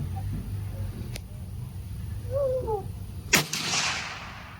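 A Browning Mini Midas .308 rifle fires a single sharp, loud report that rings out briefly over steady outdoor background noise, with no speech over it.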